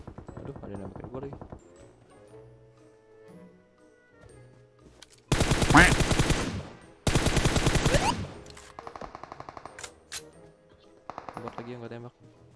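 Loud bursts of automatic gunfire in a shooting video game, two long close volleys and a few short shots separated by quieter stretches with a voice talking.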